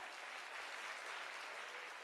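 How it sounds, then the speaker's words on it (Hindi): An audience claps loudly for the Gurudev, a continuous, even wash of many hands clapping at once, brief and fairly distant-sounding, with no talking over it. "हम चाहते हैं मेरे तीनों लोग गुरुदेव के लिए जोरदार तालियां"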